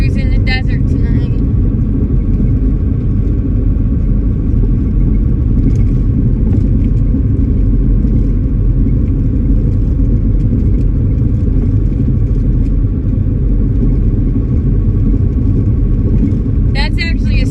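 An oilfield vehicle cruising through the desert at night gives a loud, steady engine rumble and road drone that continues unbroken throughout.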